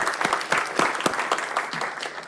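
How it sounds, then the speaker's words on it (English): Conference audience at a student security meeting applauding, a loud burst of many hands clapping with distinct sharp claps standing out, tapering slightly toward the end. "So a round of applause for the organizers for making that happen"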